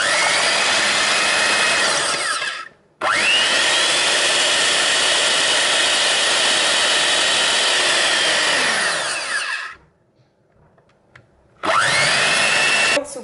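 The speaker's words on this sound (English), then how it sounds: "So I only need a little bit of fresh cream. So I'm going to whisk." An electric hand mixer whisks a small amount of fresh cream for a chocolate birthday cake, running loud and steady in two long bursts with a brief pause between and a short restart near the end.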